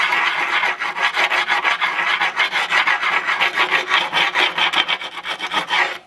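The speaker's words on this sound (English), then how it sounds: "primarily is to knock down all the high mortar off the joints." Steady, close scraping rasp of a tool rubbed along concrete block wall joints to knock off high, partly set mortar, repeating in quick continuous strokes with no talk.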